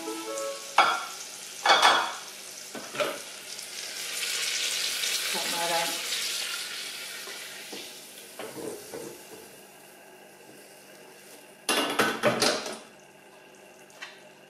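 White asparagus frying and sizzling in butter inside a Thermomix, a soft, steady sizzle with intermittent stirring and clattering bursts, fairly faint overall.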